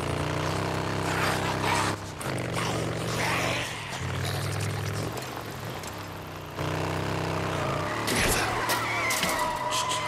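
A motorcycle in the Days Gone video game skids and squeals its tires over a steady engine roar, loud and continuous with a sharp surge of scraping noise near the end.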